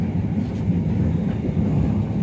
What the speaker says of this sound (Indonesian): tepat pukul 9, kereta akan memasuki